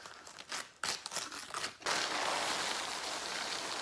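A 1954 Rice Honeys cereal bag is torn open with sharp crinkling bursts, giving way after a moment to a steady, close rustling crackle of plastic that continues to the end.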